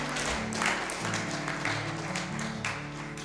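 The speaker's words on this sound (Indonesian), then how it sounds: "Boleh tepuk tangan." An audience at a senior high school graduation ceremony claps continuously for a few seconds, a steady even patter with a faint tonal hum underneath.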